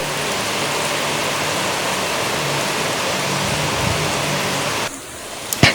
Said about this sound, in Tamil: மதியம் 12:40 மிக கனமழை என்று சொல்லக்கூடிய அளவில் இப்பொழுது வரை மழை பெய்து கொண்டே இருக்கிறது